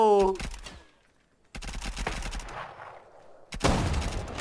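Gunfire crackles in the survival game OutlawZ, bursts of rapid shots separated by a short quiet gap, loud and close, with a brief voice at the start.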